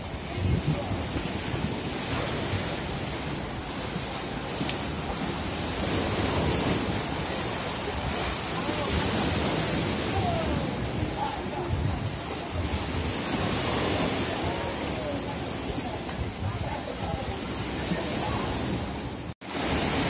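Rough sea surf washes against a rocky beach at Spotorno, a dense, steady roar of breaking water mixed with wind buffeting the microphone, loud and continuous throughout.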